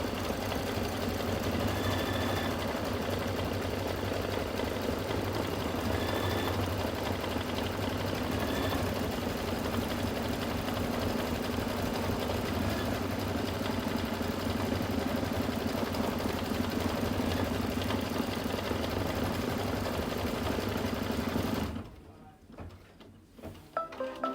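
An embroidery machine stitches out a mug rug with a continuous, steady rhythmic whirr and needle chatter, close and loud for over twenty seconds before cutting off abruptly.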